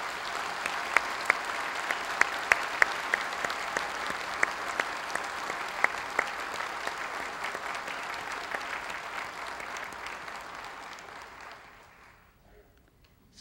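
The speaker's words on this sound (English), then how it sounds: "Let's have a very warm round of applause for this year's graduates." Sustained applause from a graduation convocation audience, a dense steady clapping with a few louder individual claps standing out, gradually thinning and fading to near silence at the end.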